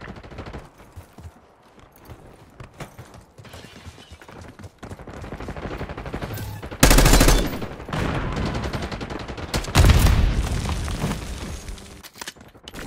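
Call of Duty gunfire rattles through a quieter stretch of battle noise, then two loud bursts of rapid automatic fire and booms erupt around the seven- and ten-second marks before fading back.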